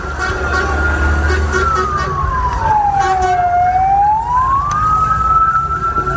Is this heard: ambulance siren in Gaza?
yes